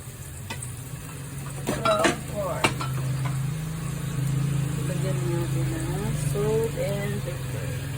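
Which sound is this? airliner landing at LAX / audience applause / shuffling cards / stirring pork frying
stirring pork frying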